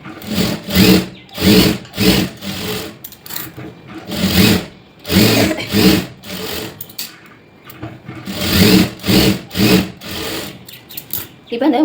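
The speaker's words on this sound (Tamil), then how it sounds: "இப்போ இது அப்படியே நான் தையல் போட்டுக்கிறேன்." A sewing machine stitches a blouse seam in loud, rapid bursts, starting and stopping repeatedly with brief pauses between runs, close up and with no talk over it.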